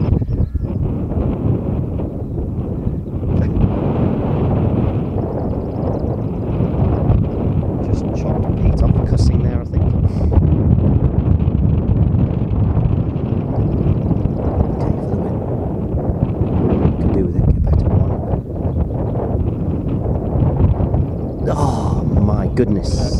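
Wind buffets the microphone on the links golf course at Royal Lytham, a steady, loud broadband rush with gusty swells throughout and no clear speech.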